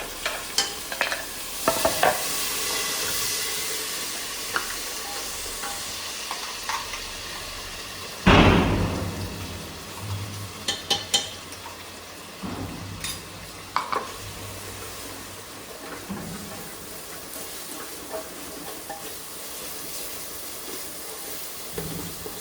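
Onion masala with tomato fries in a pan for sprouted matki curry, a continuous sizzle broken by repeated spoon scrapes and taps, with one loud clatter partway through.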